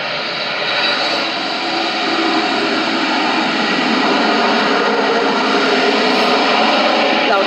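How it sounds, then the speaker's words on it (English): A loud airplane roars overhead near the San Diego Air and Space Museum, a dense steady engine rumble that holds strong throughout with no talking. "Loud plane."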